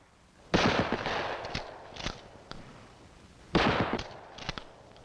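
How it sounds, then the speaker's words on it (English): A shotgun fired from the hip at close range during 1960s FBI firearms training, two sharp, loud blasts a few seconds apart, each followed by a brief rattling echo, with no talking. "Hip firing is used at close range, where most confrontations do occur."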